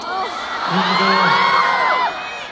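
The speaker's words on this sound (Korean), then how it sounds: "지금처럼 계속 함성 마구마구 질러줄 수 있죠" A large concert audience at a show in Hong Kong cheers, whoops and shouts together, a loud sustained roar with high-pitched screams rising and falling over about two seconds before easing off.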